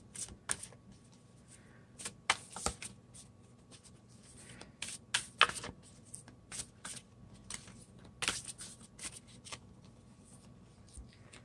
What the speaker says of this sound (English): But I would like to pull a moon card for you guys.